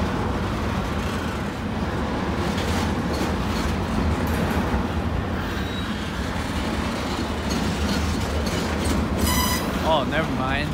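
A CP freight train departing on the MacTier subdivision with a rear DPU locomotive, a steady loud rumble of rolling cars and clatter close by, with a brief high squeal near the end.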